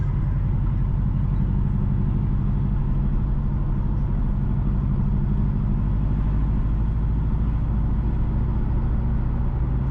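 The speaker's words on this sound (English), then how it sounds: "We are driving on the Fairfield Road." A car driving along Fairfield Road in Montego Bay, Jamaica, heard from inside as a steady low engine and road rumble that holds constant and loud, with no talk.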